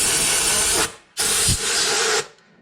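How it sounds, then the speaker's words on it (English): Compressed air blasted into the air filter housing of a 2013 Toyota Corolla, two loud close hissing bursts of about a second each separated by a brief pause. "Just blow some air in there at a safe distance."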